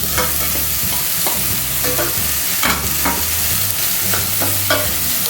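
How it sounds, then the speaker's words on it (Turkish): Peas being stirred and sautéed in a pan with browned tomato paste and garlic, a steady close sizzle broken by repeated scraping strokes of a spoon across the pan, with no voices. "birazcık karıştıracağım. Altı çizeceğim, kavuracağım birazcık."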